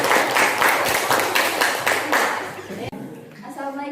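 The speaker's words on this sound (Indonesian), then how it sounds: "berikan aplaus untuk" Audience applause at the close of an Indonesian school presentation on academic supervision coaching: a dense, steady wash of many hands clapping for about three seconds, then dropping away as a voice starts speaking.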